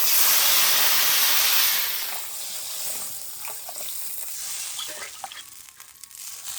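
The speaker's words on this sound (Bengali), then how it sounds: "এবার জল দিয়ে দেবো তরকারিতে।" Water poured into a pan of spicy fish curry sizzling on the heat: a loud, close rush of hissing steam that eases after a couple of seconds into softer crackling and bubbling.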